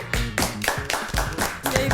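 One person claps slowly and a little unevenly for a quiz winner, about eight close hand claps in two seconds with faint voices behind.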